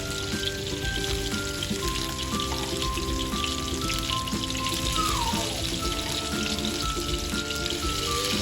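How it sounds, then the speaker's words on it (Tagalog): Steady, dense rain pattering on a surface, a continuous wash of drops with faint tonal sounds mixed in the background. "Lumakas na nga po ang ulan."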